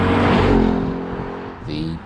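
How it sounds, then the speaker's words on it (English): A Ford Mustang with a 5-litre V8 rumbles loudly up close, engine note rising and settling in a deep growl, with a brief higher rev near the end and a voice talking over it. "the brawny Ford Mustang with the 5-litre V8"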